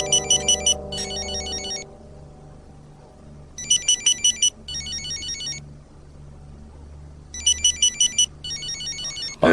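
A telephone rings in three separate bursts, each made of two quick trilling rings, spaced a few seconds apart over a low background hum, with no one speaking.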